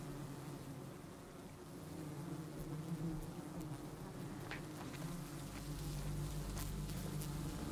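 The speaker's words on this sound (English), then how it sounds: "Bees are calm now, busy forming a new colony" A swarm of bees hums steadily, a dense, continuous buzz with faint insect whines passing near now and then.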